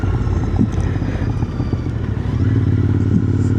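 Loud Harley-Davidson motorcycle engine running steadily close by, a deep continuous rumble that swells slightly louder toward the end, with no talking.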